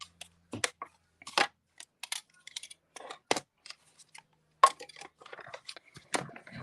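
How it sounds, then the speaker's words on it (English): Paper and a cutting die held with Post-it note tape are cranked through a Stampin' Cut and Emboss machine, giving a close run of short, irregular crinkling and crunching bursts with brief quiet gaps and no talking. "we're going to run it through our Stampin' Cut and Emboss machine"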